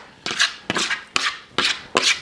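Fish brewis and potatoes tossed into a frying pan: five sharp broadband scraping thuds at a steady rhythm, each trailing into a short hiss, loud and close with no talk.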